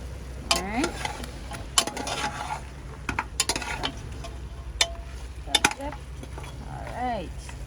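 Stew beef sizzling quietly in a pot as a spoon stirs and scrapes it, with intermittent clinks of metal against the pot and soft voices in the background.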